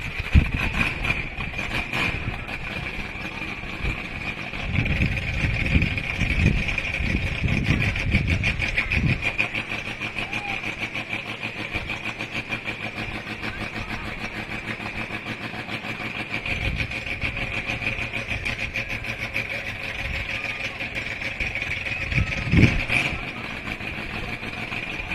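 Parade tractors rumble past at the 2024 Gemboree Parade, a steady mid-distance engine drone with louder passing surges, crowd noise around it and a voice over a loudspeaker.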